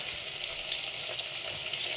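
Homemade herbal hair oil simmers in a pan, giving a steady, soft sizzling hiss with faint bubbling that stays even throughout, with no voices.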